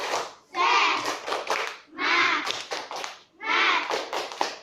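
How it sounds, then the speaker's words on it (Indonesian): Children in a classroom do rhythmic spirit clapping in three loud, distinct bursts separated by brief pauses, with young voices mixed into the claps. "Tepuk semangat."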